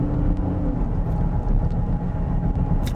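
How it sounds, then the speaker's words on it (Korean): A 550-horsepower Aston Martin DBX crosses a washboard road of regularly repeating ridges, producing a steady, dense low rumble of tyre and road noise throughout, with no voices. "규칙적인 패턴이 반복되는 빨래판 길"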